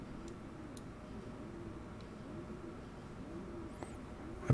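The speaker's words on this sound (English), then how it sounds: "That bird is cooing away." A bird in the video game Summer of '58 coos softly in a slow repeating rhythm, faint and low against a quiet ambient background, with a couple of small ticks and clicks.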